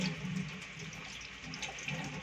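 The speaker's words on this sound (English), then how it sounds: "So after that, we just rinse our hands." Water runs steadily from a sink tap as hands are rinsed, a constant close splashing flow with no talking.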